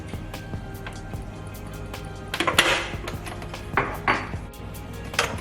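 Sugar cookie dough with sugar and baking powder being mixed in a bowl: a soft, steady scraping bed broken by a few louder clinks and knocks of a utensil against the bowl rim, close by, with no talking.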